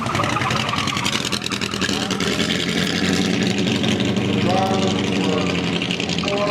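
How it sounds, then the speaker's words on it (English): A restored Hillegas tube frame sprint car, the Deer Lake Inn Special, idles steadily at a car show, its engine a continuous rough rumble under the noise of an announcer and crowd. "Next on the track is the Deer Lake Inn Special, a Hillegas tube frame sprint car"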